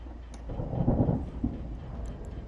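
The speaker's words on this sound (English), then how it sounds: "that thunder?" Real thunder from a storm outside rolls as a low, fairly distant rumble that swells and fades over a couple of seconds, heard indoors during a co-op session of the video game Elden Ring.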